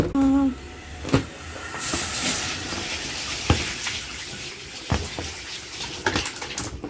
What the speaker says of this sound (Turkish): Şimdi ben bu suyu bir dökeyim.